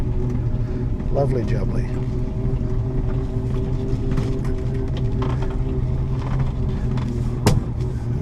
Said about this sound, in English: You can hear the old post-war Britain whine from first gear.